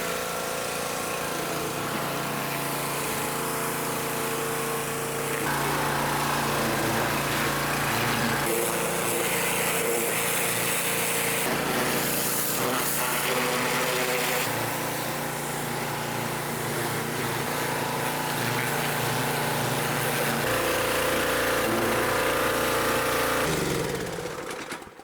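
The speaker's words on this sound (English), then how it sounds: "So we'll drag out the old pressure washer and give it a little bit of a cleanup" An old engine-driven pressure washer running steadily near a long-stored Corvette, a constant loud motor drone with shifts in pitch and load partway through, no talking.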